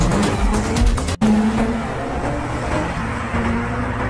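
A sports car drives in a film scene, its engine a steady loud drone with road and tire noise throughout, a brief cut near the start, no voices.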